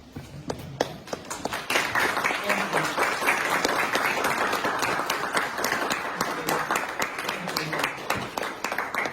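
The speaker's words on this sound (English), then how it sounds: "let us honor you with a round of applause" A room full of people applauds veterans at a ceremony, steady dense clapping building quickly and holding for several seconds, moderately loud and close.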